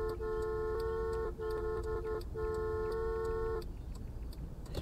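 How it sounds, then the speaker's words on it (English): A car horn in the Taxi Life driving simulator set in Barcelona blares in three long steady honks with short gaps, loud and close over a constant engine and road rumble. "I'm gonna have a honk."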